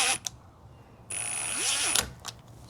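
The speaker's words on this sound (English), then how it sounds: "And then you get your screws and screw your screws in." Screws are driven into a patio door lock by hand, giving brief ratcheting, grinding turns with a couple of sharp clicks, close and quiet between strokes.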